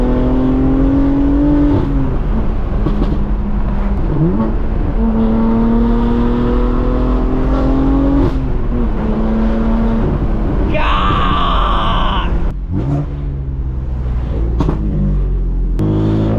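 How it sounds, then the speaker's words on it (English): BMW M4 with an exhaust straight-piped from downpipe to axle back with a tiny muffler, revving loudly and continuously with rising and falling pitch and a sharp pop near the end. "So it is is basically straight piped from the downpipe all the way to the axle back, and there's a tiny baby muffler now."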